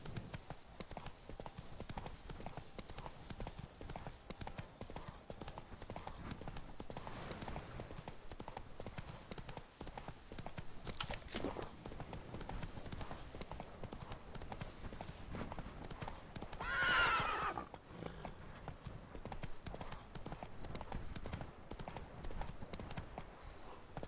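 Roach the horse gallops in The Witcher 3: Blood and Wine, with continuous fast rhythmic hoofbeats throughout, fairly quiet and steady, and a brief whinny-like swell partway through.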